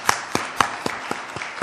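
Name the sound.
congregation applauding in church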